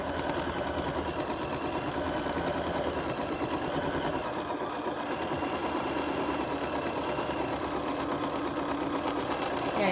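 An embroidery machine stitches a tack-down for an appliqué in the hoop, giving a loud, steady, rapid mechanical chatter that runs without pause and close at hand.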